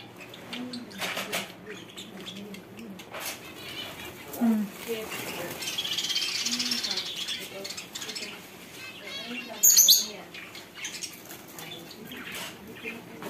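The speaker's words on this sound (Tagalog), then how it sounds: "Daming ibon." Many birds, parrots among them, chirp and squawk in and around a cage, with scattered calls and wing flutters, one sharp shriek standing out, mixed with nearby talk.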